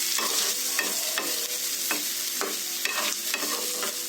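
A spoon stirs a turmeric tempering in a hot pan, repeated scraping strokes landing in an uneven rhythm over a constant sizzle of frying oil, close and clear with no talking.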